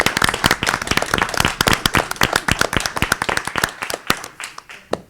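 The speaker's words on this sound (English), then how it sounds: "Can we get a round of applause again for her?" At a school board meeting, people give a student a round of applause: a moderate run of distinct, fairly close hand claps in a quick uneven rhythm, thinning out and ending with a few scattered final claps.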